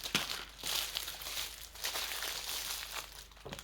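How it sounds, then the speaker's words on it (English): Plastic packaging from a farm animal toy kit crinkled while being opened, with continuous close rustling and crackling in uneven bursts. "Sorry for all the crinkling."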